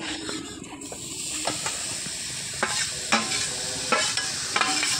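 Coconut filling for mung dal pithe is stirred in a kadai with a steady hiss and sizzle, punctuated by sharp scraping strokes of the spatula every second or so, close and alone.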